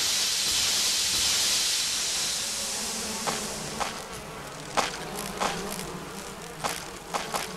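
Giant bees buzz around a beehive in the Resident Evil remake, a steady hissing drone with short sharp clicks in the later seconds.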